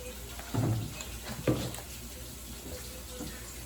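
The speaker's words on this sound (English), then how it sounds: "Let me just wash my hands." Hands being rinsed under a running kitchen tap, heard as a few short, faint bursts of splashing water over a quiet room.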